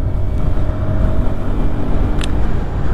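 A Hero Xoom scooter at speed on a road test ride, its engine drone merged with steady, loud road and wind roar that persists throughout without any talking.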